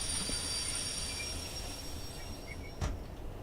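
A freight train in Derail Valley rolls with its handbrake left on, giving a sustained high metallic squeal and grinding drag over rumbling wheels, ending in a brief sharp clunk near the end.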